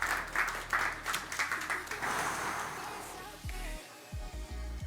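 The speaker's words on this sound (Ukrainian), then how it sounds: "Вітайте гучнішими оплесками нашого учасника." An audience at a latte art championship qualifying round applauds a contestant with loud, uneven clapping that gradually thins out, while low booming thumps come in toward the end.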